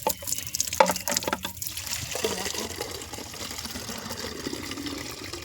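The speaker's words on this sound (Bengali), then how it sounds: "এখানে জল দিয়েছে, ওই যে পাইপ লাগানো আছে, বালতিতে পড়ছে" Water runs from a hose pipe into a bucket, a steady splashing fill that starts with a few louder gurgles and then settles into a continuous pouring rush, close by and moderately loud.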